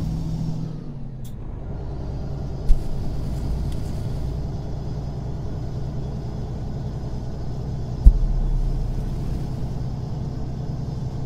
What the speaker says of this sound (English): I don't like the sound file in this truck at all.